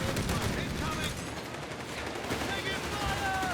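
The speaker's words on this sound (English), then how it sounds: "Running with that self-propelled anti-aircraft firepower" Self-propelled flak half-track anti-aircraft guns firing in Company of Heroes 3, a dense, continuous rattle of rapid gunfire and bursts in a busy battle, with a commentator talking over it.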